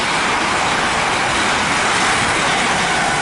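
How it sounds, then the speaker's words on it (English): A Heathrow Express Class 387 train passes Ealing Broadway, a loud, steady broadband rush and rumble of wheels and rail noise that holds throughout without talk. "passing by now, we have a probably a pair of Heathrow Express Class 387s running from London Paddington to Heathrow Terminal 5"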